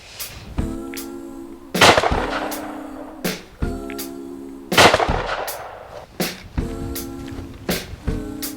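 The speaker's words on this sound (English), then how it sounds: "Let's shoot some decent shells for it." Shotgun shells fired one after another, with two loud, sharp blasts standing out among several shorter reports, each followed by a brief echoing decay.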